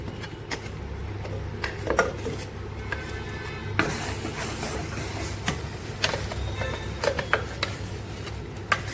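Ground masala paste for a mutton curry is sautéed and stirred in a pan, a low steady sizzle with irregular scraping and clinking taps against the metal, close up, without speech.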